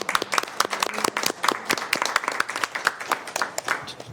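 Scattered hand claps from a small group at a local environmental commission meeting, a quick irregular patter of sharp claps that holds steady for several seconds before thinning slightly.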